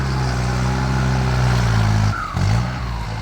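A tractor scraping and pushing wet clay soil at a rainy work site, its engine droning loud and close with a steady low hum and a brief dip and rise in pitch near the end.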